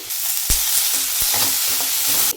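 Chopped medium onion frying in a spoon of oil in a pan, a constant close sizzle with a couple of sharp spoon knocks against the metal.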